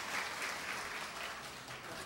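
Audience applause fills a city council session hall, a steady wash of many hands clapping at moderate distance for the full stretch without pause.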